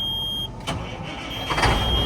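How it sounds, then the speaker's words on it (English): Close engine cranking and catching over a couple of seconds, a low rumble rising against a faint electronic whine. "Why does he start the trucks if he's not going to buy them?"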